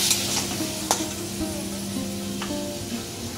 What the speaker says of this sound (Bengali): আলুটা এর মধ্যেই আমি কষে নেব, কষে নিলে কাঁচা গন্ধটা চলে যাবে।